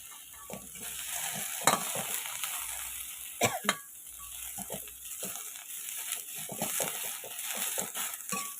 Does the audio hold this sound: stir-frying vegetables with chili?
yes